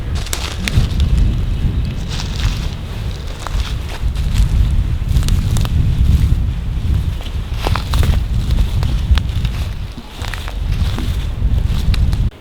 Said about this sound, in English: it's a little windy, it's a little rainy